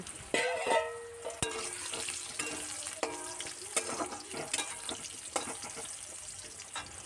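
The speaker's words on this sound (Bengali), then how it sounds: "এবারে আলুটাকে ভালো করে ভেজে নেব।" Two cut potatoes frying in a pan with whole cumin, a bay leaf and a dried chilli, a soft continuous sizzle broken by sharp scrapes and taps of a spatula stirring, fairly quiet and close.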